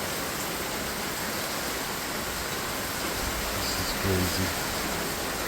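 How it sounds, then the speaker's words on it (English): Heavy rain falls in Brazil as a dense, steady hiss of a downpour that fills the whole stretch. A voice speaks briefly near the end. "This is the rain in Brazil."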